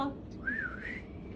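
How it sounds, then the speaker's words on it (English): A single person whistles a short rising, wavering tune during a group reading of a Christmas poem, close and moderately loud, with a brief voice sound at the start. "Everybody whistle."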